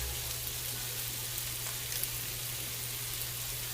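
Garlic frying in a stir-fry pan with lemongrass and sage, a steady soft sizzle with a low hum beneath and occasional faint ticks.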